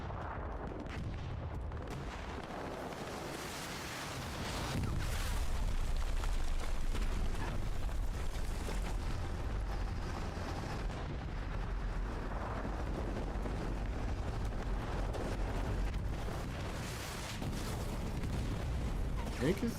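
A recon tank in Hell Let Loose shells the south side of the map, booming artillery-like blasts over a constant battlefield rumble, with scattered gunfire and voices talking throughout.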